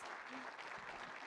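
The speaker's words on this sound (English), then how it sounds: "Put your hands together in a thunderous round of applause." A live business-event audience applauds a guest on stage, a short, dense burst of clapping that fills the hall at steady loudness with no pauses.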